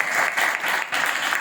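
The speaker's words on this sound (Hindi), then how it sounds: "तो खुदा के लिए ताली लगा सकते" An audience claps together at a religious talk, a dense burst of applause lasting a moment with one slight dip partway through.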